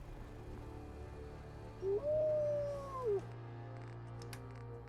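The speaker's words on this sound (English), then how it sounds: "Dogmeat's little acknowledgement noises make me think of some" A dog companion in the video game Fallout 4 gives a single soft, whining acknowledgement sound, a brief rising and falling canine vocalization over quiet game ambience.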